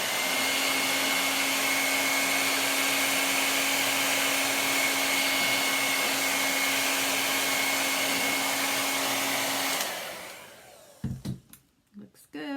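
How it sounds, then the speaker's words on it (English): A hair dryer used to dry a chalk transfer whirs loudly and steadily with a constant high whine, then winds down and cuts off, leaving a few soft handling knocks. "when I'm using the dryer, you might notice that I am avoiding heating up the transfer itself"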